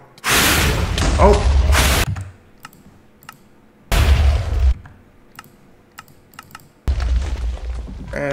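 Explosions in the video game Minecraft burst out in three loud booming blasts separated by quiet gaps, with keyboard clicks and a voice talking between them.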